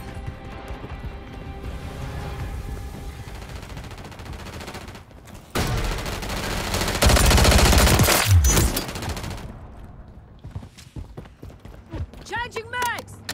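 Gunfire from a team gun game match in Call of Duty MW3, dense bursts of game weapon fire and battle noise that swell loudly in the middle, with voices talking throughout.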